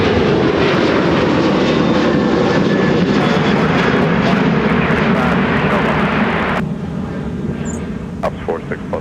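A Delta airliner takes off at Minneapolis airport, its engines roaring loud and steady across the whole stretch before the noise drops somewhat near the end, with tower radio talk faintly underneath.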